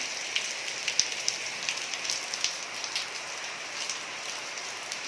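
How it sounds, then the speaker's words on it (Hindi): Steady, dense rain hiss with scattered drop ticks, a continuous heavy downpour with no voices. "ये देखिए हमारे यहाँ कितनी ज़्यादा बारिश हो रही है"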